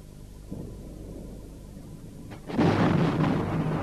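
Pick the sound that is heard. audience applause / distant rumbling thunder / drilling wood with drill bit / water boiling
distant rumbling thunder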